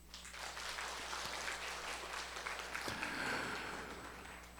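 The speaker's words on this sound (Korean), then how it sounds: "자, 우리 성준이 박수 한번 해요." A church congregation claps for a child during a service, giving soft, scattered applause at a distance over a low steady hum.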